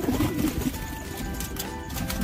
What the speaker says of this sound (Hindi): मैंने अभी कबूतरों को नीचे दाना डाला हुआ है अभी